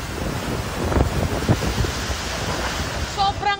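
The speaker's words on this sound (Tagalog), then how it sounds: "Sobrang lakas ng hampas ng hangin, pati na rin ang ulan dito sa Kasiguran." Typhoon Nika lashes Kasiguran, Aurora with strong wind and rain: a constant roaring wash of gusts and downpour buffeting the microphone, with thuds and a brief voice near the end.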